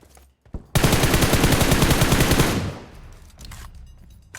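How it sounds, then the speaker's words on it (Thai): Rapid automatic gunfire in the mobile battle-royale game PUBG Mobile on the Livik map, a dense sustained burst of roughly two seconds that tails off into quieter in-game ambience. "เมื่อกี้เหมือนจะมีเสียงปืนมานะ จากทางซ้าย"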